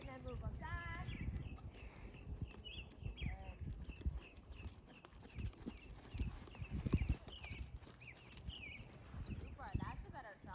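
Horse hooves clip-clop steadily on an arena surface during a riding lesson, close and fairly quiet, with an instructor talking over them throughout.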